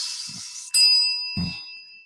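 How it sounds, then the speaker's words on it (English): Three distinct bright bell dings, ringing cleanly and alone, with each strike decaying before the next. "So we get 3 bells to put that to rest."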